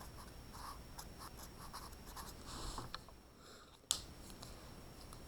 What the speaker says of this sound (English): So I'm just going to go ahead and write that really quick here for us